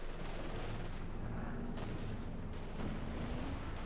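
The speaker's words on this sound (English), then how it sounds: "Lots of rocket fire here, trying to prevent the victory point falling into German hands" Rocket and artillery fire in a Company of Heroes 2 battle: a dense, continuous barrage of rumbling blasts and crackling explosions, steady and fairly distant, with no clear pauses.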